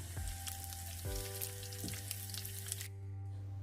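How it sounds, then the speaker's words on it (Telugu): Urad dal with cumin and other tempering spices fries in hot oil with a soft, steady sizzle and a few faint pops and crackles, heard alone and quite quietly. "ఉరద్దాల్ మినపప్పు ఇవి మంచి కలర్ వచ్చేంత వరకు ఫ్రై చేసుకోవాలి అంటే క్రాక్ అయ్యేంత వరకు ఫ్రై చేసుకోవాలి"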